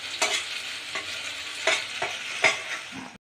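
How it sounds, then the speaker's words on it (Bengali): Spice paste with turmeric frying in oil for a fish-stuffed potato dish, a steady close sizzle broken by several sharp scraping stirs of the spatula against the pan. "মশলাটাকে আমি একটু ভাজা ভাজা করে নেব, যতক্ষণ তেল না ছাড়বে ততক্ষণ আমি একটু ভাজা করে নেব"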